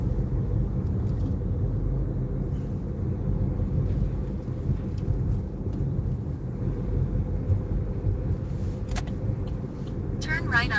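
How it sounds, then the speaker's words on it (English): Rain falls on a car during a drive, a heavy steady wash and rumble of rain and road noise lasting throughout, with a few faint clicks near the end. "but I don't want this rain."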